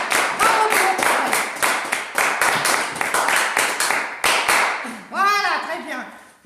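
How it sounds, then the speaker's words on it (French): An audience claps for doctors at a comedy show, the clapping loud and rhythmic in steady unison beats before breaking up. A voice then talks over the fading claps near the end. "on peut applaudir les médecins s'il vous plaît"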